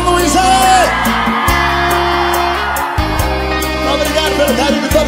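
Concert crowd at a live show in São Luís shouting and cheering loudly over sustained band music and bass, a dense, roaring mass of voices.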